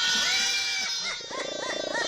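A person's voice imitates bleating goats and squawking parrot calls, wavering and nasal, loud and close with no other sounds.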